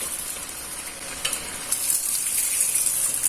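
Fried onions going into a hot pan for Kerala-style chicken roast, a steady close sizzle of frying with faint stirring scrapes, no voices.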